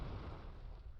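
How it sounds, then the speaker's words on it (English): Fireworks in the video game Men of Valor, set during Tet, rumble as low, muffled booms and bursts, faint and continuous over about a second. "Just fireworks, silly!"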